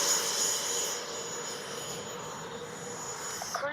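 An FMS Super Scorpion V2 RC jet flies past with a steady jet-engine whine and rushing roar, fairly loud, easing off slightly partway through, heard alone without talk.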